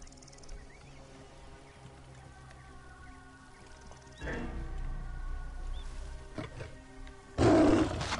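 A lion roars in the video game Assassin's Creed Origins: two loud, rough bursts, the second harsher and closer, rising over a low game ambience with no talking.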